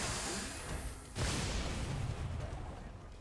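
A soldier firing in XCOM 2, a single sharp boom-like shot in the middle over a rumbling battle backdrop, fairly loud and close.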